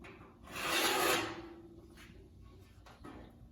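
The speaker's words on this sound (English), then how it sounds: "I'm just gonna tip the edge up in about a 45-degree angle." Non-mar pliers pry up a trim edge on a 1947-1954 Chevy pickup truck, making a close, loud rasping scrape that swells for about a second, then fainter rubs and a small click.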